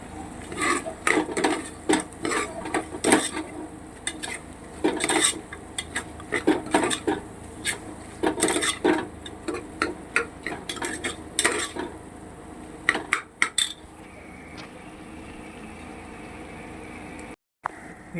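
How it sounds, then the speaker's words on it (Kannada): Masala fries in a pan for paneer ghee rice while a spoon stirs it, making repeated close clinks and scrapes against metal over a low sizzle, which then settles into a quieter steady fry. "ಮಸಾಲ ಎಲ್ಲ ಸ್ವಲ್ಪ ನೀಟಾಗಿ ಫ್ರೈ ಆಗಿದೆ"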